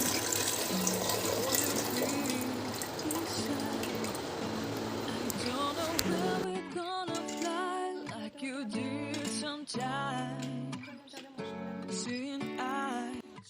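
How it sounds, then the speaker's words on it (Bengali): Hot water pours and splashes into flour for roti dough, a steady rushing stream for several seconds before a voice starts speaking over softer wet sounds. "এই যে আমি জলটা গরম করে রেখেছি, এটা দিয়ে দেবো যাতে তাড়াতাড়ি হয়ে যায়"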